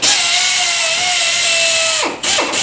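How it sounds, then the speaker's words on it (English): A power drill whines steadily for about two seconds, boring small pilot holes for installing TeraFlex rock sliders on a Jeep door sill, then cuts out with two short bursts after; loud and close, no talk. "Jen's just going to drill a couple little pilot holes here."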